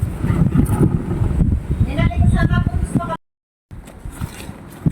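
Heavy outdoor wind buffets the microphone in a loud, rumbling roar, with a voice talking through it and a brief dropout near the end.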